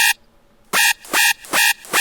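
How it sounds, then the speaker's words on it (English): Short, bright siren-like synth blasts in a dubstep track repeat in a choppy rhythm, each burst punchy and loud with silence between them. "Siren I changed up a little bit, and it sounds like this."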